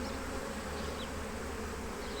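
Honey bees hum in a dense, constant drone close by while a beehive colony is opened for a full spring inspection.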